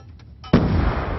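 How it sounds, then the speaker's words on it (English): A grenade explodes in a competitive shooter video game match: brief faint clicks, then one sudden loud blast that decays into a rumbling tail. "Nade's coming in, he is taken out by the nade."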